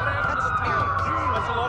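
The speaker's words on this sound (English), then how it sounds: "That's a lot of sirens for a blackhead." Police sirens wailing in the video game Watch Dogs, several overlapping rising and falling tones held steady throughout.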